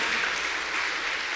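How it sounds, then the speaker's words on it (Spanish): A church congregation claps together in a brief, dense burst of applause that carries steadily at a modest level. "Yo le daría un aplauso a Dios"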